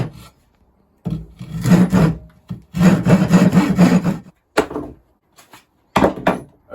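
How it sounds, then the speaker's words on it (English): A hand rasp scrapes the insides of recycled pallet wood boards in loud, close bursts of gritty back-and-forth strokes, separated by short pauses. "Next on these boards is just rasp the insides out to make them smooth"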